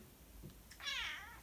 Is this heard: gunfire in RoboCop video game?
no